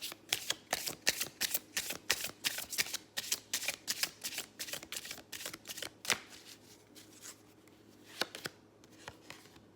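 Tarot cards are shuffled repeatedly by hand in a quiet room, a quick run of crisp riffling slaps that slows and thins toward the end.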